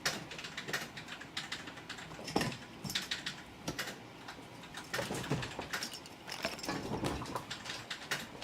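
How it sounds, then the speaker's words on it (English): Fast, steady clatter of typing on a computer keyboard during a live PC build session, with irregular bursts and brief pauses, fairly close and alone without speech. "You can tell from the way you're typing."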